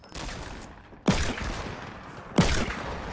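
Gunfire in the Fortnite video game: several sharp, loud shots ring out at roughly one-second intervals, each with a short decaying tail. No one speaks.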